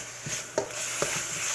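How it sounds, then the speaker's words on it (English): Teriyaki chicken and vegetables sizzle in a stir-fry pan with a steady hiss, broken by a few brief clinks and scrapes as the food is stirred. "I'm going to add in my veggies and let that all cook together."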